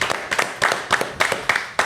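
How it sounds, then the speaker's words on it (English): A podcast audience claps in a quick, uneven rhythm, with bursts of claps close together and loud, no talking over them. "clap it up for Dre, y'all."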